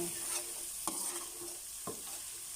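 Shallots frying in a pan for a Northern Thai tamarind-leaf dish: a quiet, steady sizzle broken by two or three sharp scraping stir strokes, close by and with no talking.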